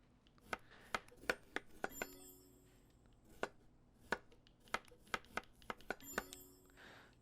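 Knife strikes on a cutting board in the cooking game Chef Life as potato and shallot are chopped, sharp isolated thuds in irregular clusters of about a dozen hits, crisp and close, with light clinks in between.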